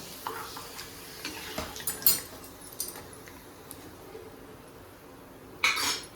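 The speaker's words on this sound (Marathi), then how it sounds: "आता आपण ते तळून बघूया किती छान पापड फुल आहे आपला" Sabudana potato papad frying in hot oil, with a faint sizzle under scattered utensil clinks and scrapes, and a couple of sharper crackling bursts near the start and end.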